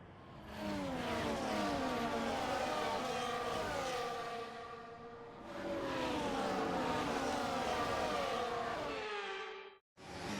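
Race cars in the F1 24 video game roll through a formation lap, engines whining and rising in pitch in two long swells, loud and close, with a brief drop-out near the end and no talk.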